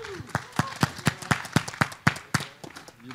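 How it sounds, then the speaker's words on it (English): About a dozen crisp, distinct claps in a quick, fairly regular rhythm from a sparse audience at a startup fair, close and clear, with brief gaps between strikes. "A big round of applause."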